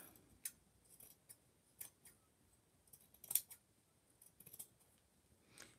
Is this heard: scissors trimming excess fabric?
yes